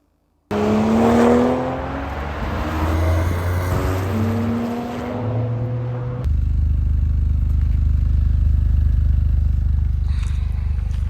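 A base Core trim car driving on a track: a steady engine drone with shifting, rising tones under faint road noise, then a heavier, louder drone that holds steady to the end.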